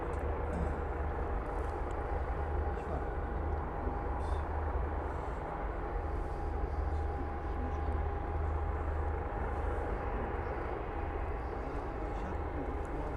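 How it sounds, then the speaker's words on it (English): Steady, loud jet engine roar with a constant hum, sustained throughout as a Learjet business jet passes nearby while landing at Cologne Bonn Airport. "Got a BizJet coming in."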